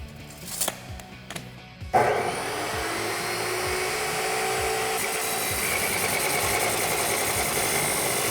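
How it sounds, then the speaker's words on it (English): A power tool cuts an exhaust pipe for a Ford F-150 exhaust system. A few clicks and handling knocks come first, then a steady loud grinding whine runs without a break until the end. No one talks. "let's go ahead and measure that and get it cut"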